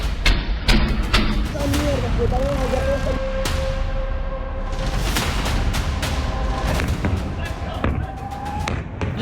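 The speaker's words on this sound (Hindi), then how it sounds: "रात 1 बजे के बाद वेनेजुएला में धमाके शुरू हुए।" Repeated sharp blasts and booms from explosions in Caracas, Venezuela at night burst out irregularly, some close and loud, with a low rumble and a faint tonal whine running underneath.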